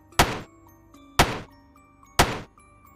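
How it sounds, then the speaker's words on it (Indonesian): Three evenly spaced knocks, one about every second, each a sharp, close thud that dies away quickly in a quiet room, used as a sound effect in a horror story. "Suara ketukan pelan."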